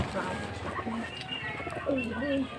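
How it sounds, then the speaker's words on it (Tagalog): Soft, low pigeon coos repeat several times against a busy background, with people's voices nearby. "ito naman yung kalapati oh"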